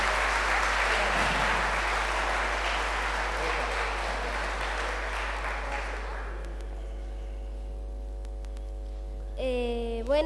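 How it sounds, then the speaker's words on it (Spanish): Audience applauding at a tribute event, a full round of clapping for about six seconds that fades out over a steady electrical hum, followed by quiet and then a short musical tone. "¡Aplauso, aplauso!"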